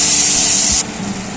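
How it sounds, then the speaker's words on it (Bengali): Spice paste hits hot mustard oil after black cumin seeds, giving a loud, steady hiss of sizzling that drops suddenly to a quieter simmering crackle partway through. "এবার দিয়ে দিচ্ছি পেস্ট করা বাটা মশলা।"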